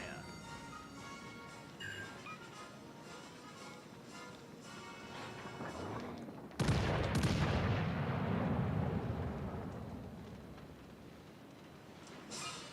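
Battleship broadside salvo from World of Warships: Legends: a sudden loud boom that erupts midway, followed by a long rolling rumble that fades slowly, over a steady game background hum.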